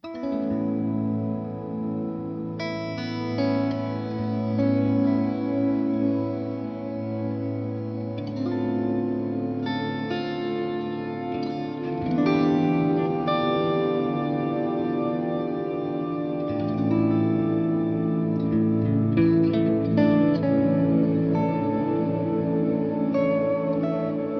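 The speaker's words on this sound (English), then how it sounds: "It's a reverb that only reverberates the harmonics of what you play." Sustained guitar chords through a harmonic reverb pedal that reverberates only the harmonics, bathed in a shimmering, ringing reverb lingering on the high overtones, playing steadily without any talking.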